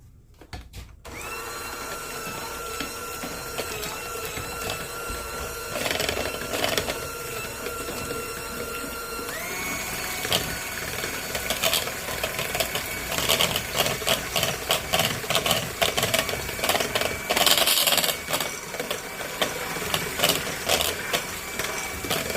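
An electric mixer whirs steadily on a kitchen counter for over twenty seconds, loud and close, its motor tone shifting partway through, with no talking.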